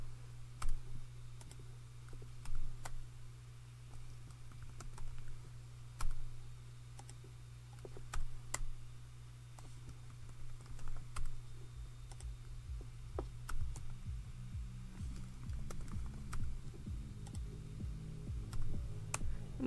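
Scattered keystrokes on a computer keyboard while editing text in Blender, quiet irregular clicks over a low steady hum, close but faint, with no talk.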